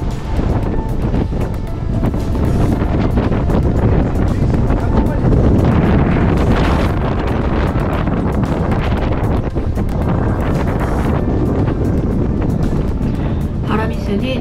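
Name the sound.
strong wind on a sailing yacht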